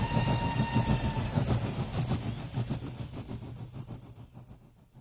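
A train rolls along the rails with a steady low rumble and rhythmic wheel clatter, loud at first and then slowly fading as it moves away.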